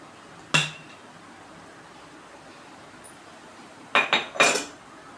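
A large dosa griddle (tawa) handled in a kitchen: one sharp metallic clank, then quiet, then a quick cluster of three ringing knocks and scrapes near the end.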